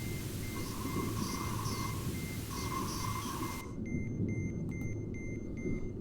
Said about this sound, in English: What's making that beeping sound?